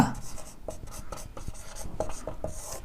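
Hand-writing Hindi words, a pen or marker scratching and tapping in short strokes with small pauses, close and fairly steady, with no talk over it.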